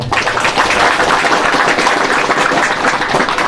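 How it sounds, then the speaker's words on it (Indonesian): An audience at an Islamic religious gathering claps loudly and densely, a full burst of applause at close range with no clear talk. "Tepuk tangan dulu ya"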